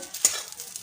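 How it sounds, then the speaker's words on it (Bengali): Fried eggplant pieces sizzling in a pan, with one quick stir or scrape of a utensil over a steady hiss, close and brief, no voices. "বেগুনগুলো আমার ভাজা হয়ে গেছে"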